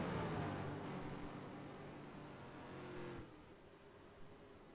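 Mustang race cars accelerating out of a corner at Road America, a loud roaring engine note that swells, holds, then cuts off and fades, heard from trackside with no voices.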